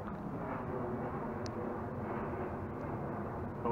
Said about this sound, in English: It's the plane of people coming back to quarantine.